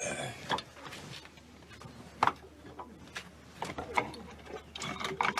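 Metallic clicks and ratcheting clatters from an old lock mechanism being worked with a key, with sharp snaps at irregular intervals and some background murmur.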